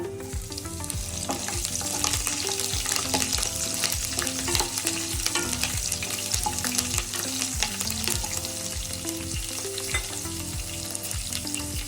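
Curry leaves and green chillies fry in hot oil with a dense, steady sizzle and crackle, loud and close, stirred throughout. A tonal musical hum runs faintly underneath.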